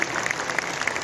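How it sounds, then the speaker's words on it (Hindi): A large audience at a national creators awards ceremony in New Delhi breaks into brief, steady applause, a dense wash of many hands clapping at once. "जोरदार तालियां"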